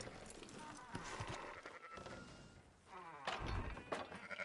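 Sheep bleat in the video game Red Dead Redemption 2, several faint calls rising over a busy, quiet game ambience of buzzing insects and rustling sounds.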